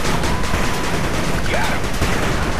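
Rapid gunfire from the pixel-style strategy game 8-Bit Armies, a dense continuous crackle of shots filling the whole stretch at steady loudness, with no clear pauses between bursts.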